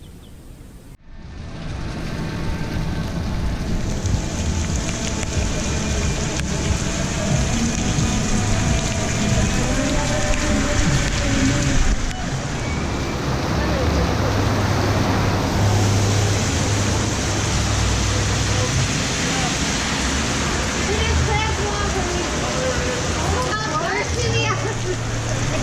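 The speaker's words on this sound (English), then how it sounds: "on that particular day it was a torrential rainstorm from nowhere" A torrential rainstorm pours down in Key West, Florida, a dense, steady hiss of heavy rain splashing on surfaces close by for the whole stretch, with faint voices beneath it.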